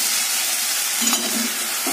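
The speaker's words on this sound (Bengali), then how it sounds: "এই দেখো কড়াই ভালো করে গরম হয়ে গেছে, তেলে দিয়ে দিয়েছি, ব্যাটারটা ঢেলে দিলাম" Oats chilla batter hits hot oil in a wok, producing a loud, steady frying sizzle with a soft bubbling undertone throughout.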